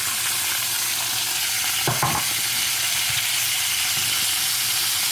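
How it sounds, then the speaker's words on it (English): Sausage sizzles loudly in a skillet, a dense, close, unbroken hiss with a brief flare around the middle and no talking. "on the same skillet, we're gonna add our sausage."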